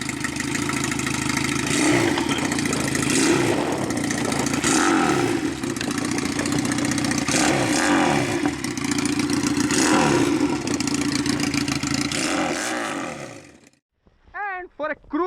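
A Regal Raptor parallel-twin cruiser motorcycle engine revs loud and close, surging and easing in repeated pulls for about fourteen seconds before cutting off, followed by a brief voice-like sound.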